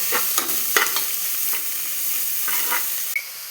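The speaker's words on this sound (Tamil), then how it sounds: "கட் பண்ணி வச்ச முட்டைக்கோசை போட்டு கிளறேன் போட்டு கிளறணும்" Chopped cabbage being stirred in a pan with curry leaves for a Kerala-style cabbage thoran, a steady frying hiss broken by several scraping strokes of the spoon, close and clear with no voices.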